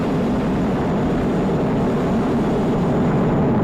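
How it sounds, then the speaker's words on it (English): A SpaceX Falcon 9 rocket's engines during a Crew Dragon launch to the ISS, heard as a continuous, dense roar that stays loud and even throughout, with no voices over it. "Falcon 9 engines now throttling down to help pass through the period of maximum dynamic pressure"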